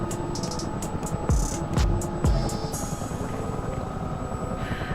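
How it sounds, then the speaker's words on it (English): Tandem-rotor CH-47D Chinook helicopter in Microsoft Flight Simulator 2020, a steady loud rotor and engine drone with a few heavier low thumps partway through, no talking. "So this is a tandem rotor helicopter."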